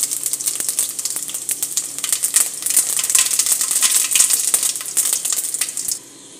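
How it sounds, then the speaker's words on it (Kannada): Cumin seeds sizzling in a little hot oil as a tempering for a home recipe, a steady bright crackle with scattered pops lasting about six seconds before stopping abruptly, close and fairly loud, with no talking. "ನಾನು ಒಗ್ಗರಣೆಗೆ ಸ್ವಲ್ಪ ಜೀರಿಗೆನ ಹಾಕ್ತೀನಿ."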